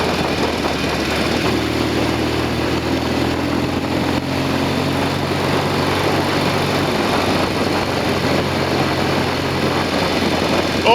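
A Norton Commando 750 motorcycle engine runs steadily on a road test, a continuous loud engine drone with a shifting note and no talk over it.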